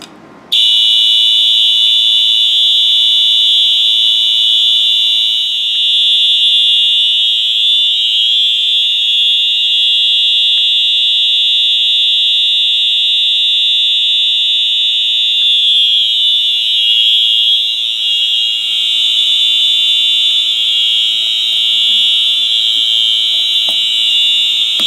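A fire alarm system in test mode sounds a loud, continuous high-pitched electronic tone that holds steady without a break, alone with no talk.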